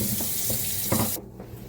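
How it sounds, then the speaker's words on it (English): Celery stalks rinsed under a running kitchen tap while making homemade chicken stock, with a steady close splash of water into the sink for over a second before the flow cuts off abruptly. "I'm just going to rinse that."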